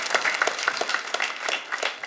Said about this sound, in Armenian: Բարձր ծափարում ենք Մարտինին